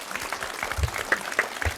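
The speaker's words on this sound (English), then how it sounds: "Round of applause for chocolate people." Audience applause, a short burst of loose clapping with a few distinct claps standing out over a soft room murmur.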